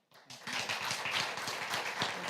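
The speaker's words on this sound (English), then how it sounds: "Just ask everybody to refrain from the applause until we're finished with all the speakers." An audience at a school board meeting breaks into brief, dense applause. Many hands clap together for about two seconds, fairly quiet in a room, with no talking.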